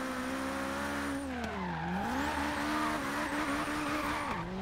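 A car drifts in Forza Horizon 3 with a sustained engine drone, and the pitch dips and rises as the tires squeal and skid throughout.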